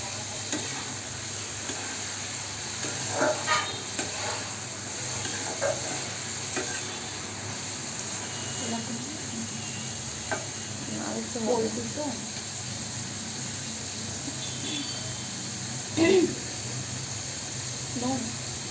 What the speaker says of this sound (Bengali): মিডিয়াম আঁচে আছে। কারণ ফুল দিলে দেখা যাবে কি আমার মাংসটা কাঁচা থাকতে পারে বা পুড়ে যেতে পারে